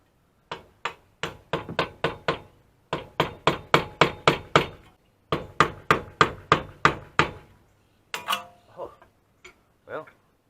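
Sharp metal hammer strikes on a seized Infiniti wheel bearing hub, three fast rhythmic bursts of about seven ringing blows each, then a few scattered hits and a short spoken phrase near the end.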